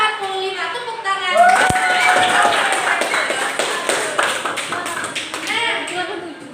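Primary school pupils in a classroom clap for a classmate, a patchy round of small hands beating unevenly for several seconds, mixed with children's voices talking over it.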